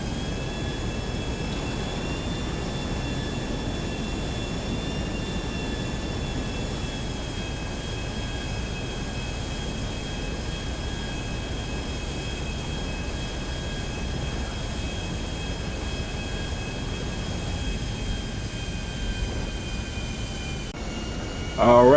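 A plane flies with a continuous steady engine roar and a high whine in GTA Online on PS5, with no talk.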